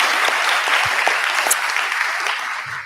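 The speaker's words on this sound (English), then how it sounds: "So just kind of round of applause for them," A round of applause from the audience at a public advisory committee meeting, steady dense clapping filling the room for about three seconds without talk.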